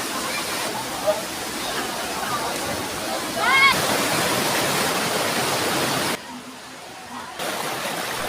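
The waterfall at Dao Falls on Samal Island pours in a steady broadband rush. The roar drops out briefly near the end, then returns. Voices can be heard faintly around it.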